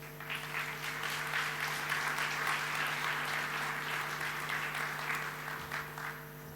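Steady, dense audience applause fills a hall at the opening of a European funds exhibition as a secretary of state is invited to the stage, a continuous wash of many hands lasting several seconds.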